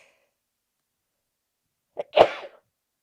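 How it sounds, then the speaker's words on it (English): A single sharp human sneeze, preceded by a brief inhale, bursts loudly out of near silence and stops quickly, with no speech around it. "So I'm gonna sneeze."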